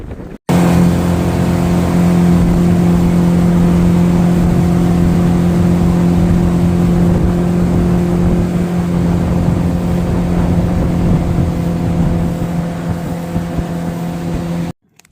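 A jet boat engine drones steadily at close range, a constant loud hum running without pause and easing slightly toward the end.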